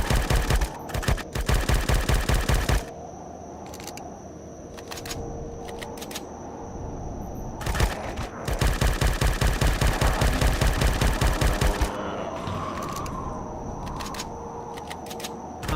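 Rapid automatic weapon fire in Empyrion Galactic Survival, two long loud bursts of fast repeating shots separated by a short pause, close and sharp, with the second burst followed by a lingering whoosh.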